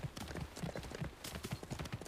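Horse hooves in the Hogwarts Legacy video game, a brisk run of clip-clop hoofbeats at a steady rhythm, quiet and close, with soft game ambience behind.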